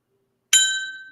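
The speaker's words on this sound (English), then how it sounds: "here's the bell." A hand bell is struck once after a moment of silence, giving a bright metallic clang whose ringing tone decays slowly over the following second, close and fairly loud.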